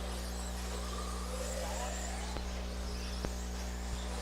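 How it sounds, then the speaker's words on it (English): A radio-controlled stadium truck on an off-road raceway, its engine a loud, continuous droning buzz with steady hum, heard at a distance with a couple of brief sharp clicks. "It's the loudest stadium truck ever."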